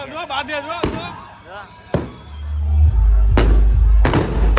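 Several sharp firecracker bangs burst out at a wedding, spaced irregularly, with a crowd's chatter and a low rumble underneath.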